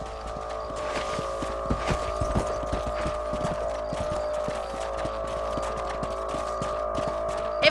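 Horse hooves clip-clopping at a steady trot in the Red Dead Redemption video game, a rhythmic run of close hoofbeats over a low constant hum, with no voices.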